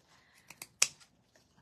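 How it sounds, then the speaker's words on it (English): Pinking shears snipping through fabric, a few crisp metallic cuts in quick succession with one louder snap, close and quiet with no talking. "You open and close them on the material just like you would other scissors."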